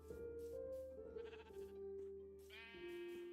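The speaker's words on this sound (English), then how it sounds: "Already got sheep and things." Sheep in the Minecraft video game bleat several times in short, tonal, wavering calls over a steady low in-game background hum, with no one talking.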